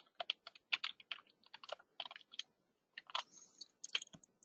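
Quiet, close clicking of a computer keyboard as a username and password are typed, in short irregular bursts of keystrokes with a brief pause midway.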